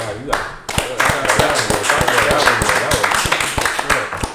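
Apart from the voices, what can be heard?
hand clapping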